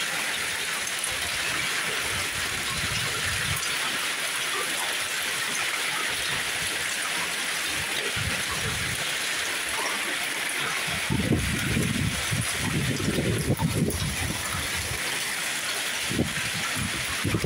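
A hailstorm in Turin: steady, dense patter of hard hailstones drumming on surfaces, continuous throughout, with heavier bursts of impacts toward the end.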